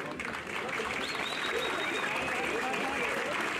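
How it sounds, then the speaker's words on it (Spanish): An outdoor audience at a rural village rodeo during a patron saint festival gives sustained applause, with whistles rising above the crowd and voices talking throughout. "Con el más fuerte de tus aplausos, mi compañero y yo nos damos por bien pagados esta noche, señores."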